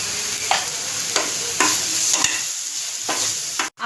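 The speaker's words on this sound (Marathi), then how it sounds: "आता आपण हे चांगलं परतून घेऊया।" Raw mango rice masala with turmeric sautéing in a pan: steady loud sizzle with several sharp scraping stirs of a spatula spaced through, no voices.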